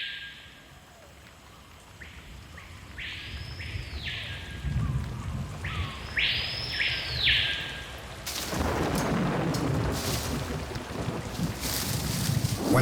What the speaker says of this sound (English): When a tropical storm comes